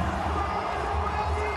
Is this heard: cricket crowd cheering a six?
yes